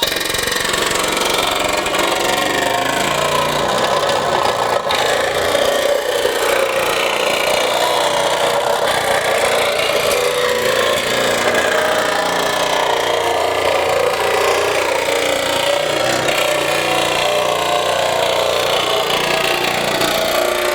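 A Milwaukee M12 Fuel cordless 16-gauge variable-speed nibbler cuts through aluminum sheet with a continuous, steady buzzing chatter, loud and close, unbroken for the whole stretch with no talk.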